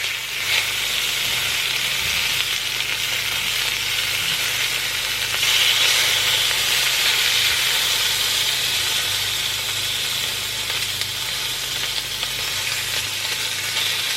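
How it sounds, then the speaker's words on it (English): Bacon frying in a pan crackles and sizzles steadily for the whole stretch, a dense close hiss with a low hum underneath and no talking. "bacon is so easy to cook"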